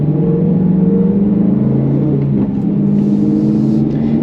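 BMW E9X M3 with an Eventuri intake revving under load, a loud, steady engine drone with a rising and falling tone that carries through without pause.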